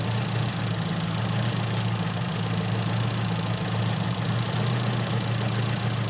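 Car engine with SU carburettors idling steadily while the mixture is leaned out, a continuous low, even rumble at moderate level with no talk over it.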